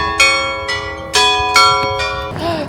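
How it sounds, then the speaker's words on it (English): Church bell ringing outdoors on a balcony, several separate bright metallic strikes with long ringing tones that overlap, then a softer final stroke, fairly near and alone without talk. "Do you hear the bell?"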